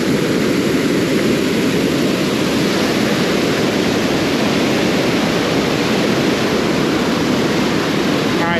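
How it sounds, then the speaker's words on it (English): Continuous roaring rush of a waterfall near an old building in Tunica, Mississippi, loud, steady and unbroken, with no talking over it. "see the waterfall from a different point"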